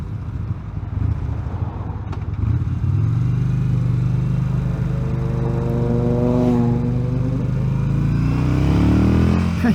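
A Yamaha XVS 950 Bolt cruiser motorcycle is ridden with the throttle opened, its engine making a loud, continuous low rumble that climbs steadily in pitch as it accelerates, with wind noise over it.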